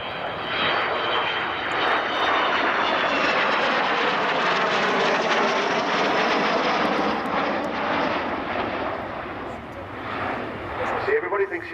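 A 1960 Avro Vulcan jet bomber at RAF Cosford roars with a broad, loud engine rush that swells and holds steady, then eases slightly near the end, with voices faintly beneath.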